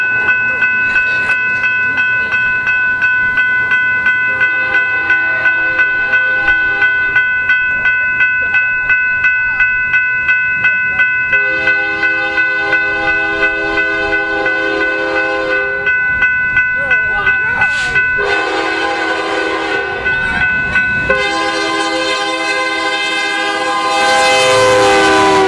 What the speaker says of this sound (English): BNSF Dash and I with a terribly fouled K3LA.